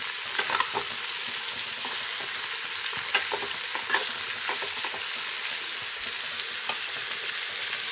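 Ash gourd frying in a pan while being stirred, a steady close sizzle broken by scattered scraping taps of the spatula, with no voices.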